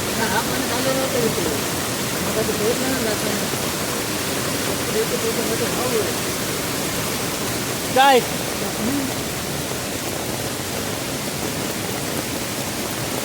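Floodwater of a river in Konkan rushing in a steady, broadband roar that stays loud and constant throughout, with a brief louder knock near the middle and a single faint spoken word.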